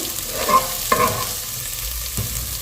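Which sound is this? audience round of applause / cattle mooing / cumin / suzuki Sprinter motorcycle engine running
cumin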